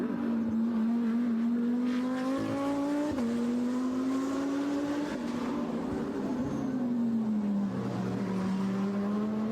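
A GT3 race car, Uno Racing's number 98, running on a circuit during a race: a loud, continuous engine howl that rises and drops in pitch through gear changes and corners.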